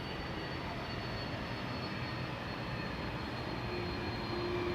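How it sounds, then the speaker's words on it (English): A jet airliner rejecting its takeoff on the Polderbaan runway at Amsterdam gives a steady, distant, broadband roar that holds evenly throughout without a break. "This is an aborted takeoff"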